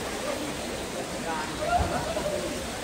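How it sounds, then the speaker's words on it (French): Steady rushing water from a waterfall, a constant broadband roar at low volume, with faint voices briefly in the background. "Ça, c'est la cascade."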